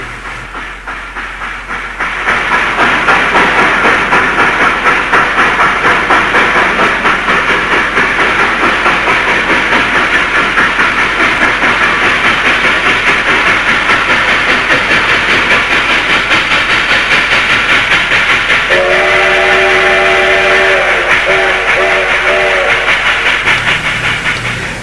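A U.S.-built coal- or wood-fired steam locomotive with slide valves and link-and-pin couplers rolls past nearby, giving a steady, loud rumble with rhythmic clatter and hiss that holds for the whole stretch.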